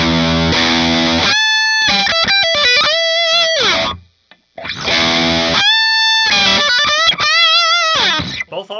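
Distorted electric guitar lead through a Reverend Billy Corgan signature Z-One guitar plays sustained bent notes and quick runs, loud and alone, with a short gap midway.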